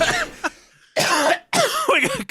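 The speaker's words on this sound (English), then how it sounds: "We got COVID coughs happening." Coughing from a person sick with COVID, several harsh bursts close to the mic: a short cough, a pause, then two heavier clustered coughing fits with raspy throat-clearing edges.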